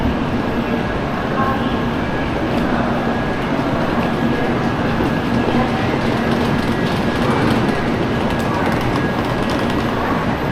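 Continuous loud rumble and rushing noise of a Shinkansen bullet train on the Tokyo to Osaka line, steady throughout with faint rhythmic clicking from the rails and no clear voices.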